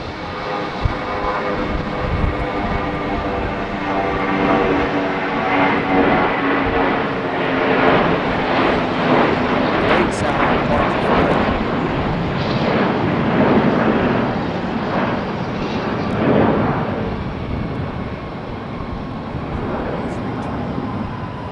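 An Airbus A321 airliner takes off at Raleigh-Durham airport, its engines roaring loudly and steadily throughout with a rising whine.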